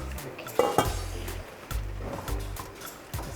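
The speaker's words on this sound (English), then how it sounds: "Give it a good stir." A spoon clinks and scrapes around a Salad Master pot as seasoning is stirred into yam and egg beef sauce, with a few metallic knocks and low scraping strokes, close but quiet.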